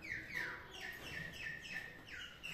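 Captive green-winged saltators (trinca-ferro) chirping nearby, a rapid series of bright, repeated descending tweets at moderate volume with no talking.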